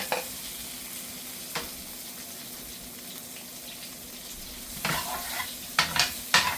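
Onions fry softly in a pan under a faint steady sizzle, with an occasional scrape early on and a cluster of louder stirring clatters near the end.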